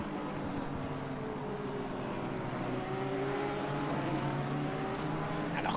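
Racing cars in a video game, a GTR against a Porsche, engines droning steadily and pitch rising and falling as they run close together, loud and continuous.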